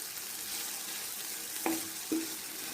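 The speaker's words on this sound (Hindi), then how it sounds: "और इसको अच्छी तरह से आलूओं को भून लेना।" Potatoes with salt frying in a pan, a steady soft sizzle with two sharp clinks of a utensil against the pan partway through.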